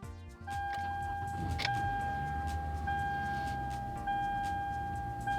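A Toyota or Lexus car engine, after a battery replacement, starts and settles into a steady idle heard from inside the cabin, with dash chimes ringing over it.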